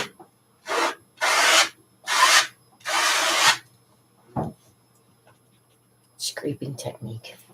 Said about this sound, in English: Scraping technique, yes.